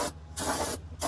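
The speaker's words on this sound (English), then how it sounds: "spray this surface off with the cleaner" Two short hissing bursts of cleaner sprayed onto a surface on a Chevy Silverado, close and crisp with a brief pause between them.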